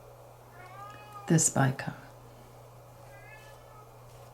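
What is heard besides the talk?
pet cat howling to get in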